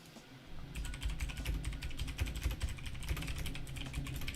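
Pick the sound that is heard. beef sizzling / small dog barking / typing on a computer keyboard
typing on a computer keyboard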